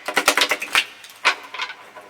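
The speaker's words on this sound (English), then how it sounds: "Still getting used to shuffling cards." A deck of tarot cards is shuffled close by in short bursts of quick papery flicks and taps, with a couple of brief pauses between them.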